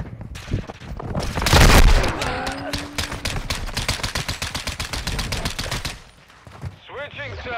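Rapid video game gunfire, a dense burst of sharp cracks rising to a loud peak, then a long run of regular automatic shots, with a brief pause before a few last shots and faint voices.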